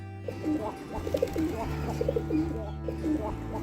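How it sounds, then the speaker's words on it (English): A pigeon cooing close by in a repeated soft, throaty pattern of low notes, steady over a constant low background hum. "Pigeon. This is pigeon."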